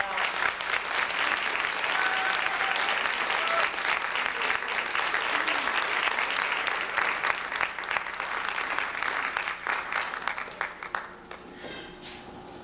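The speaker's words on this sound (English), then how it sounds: "Patterson's class one more round of applause." An audience at a 2008 kindergarten graduation and music program gives a class sustained applause. Steady, dense clapping fills the room, then thins and tapers off toward the end.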